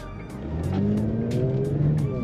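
A Kia Stinger with straight-piped exhaust revs steadily while its tires squeal in long, rising and falling screeches as it drifts, loud and close, with no talking.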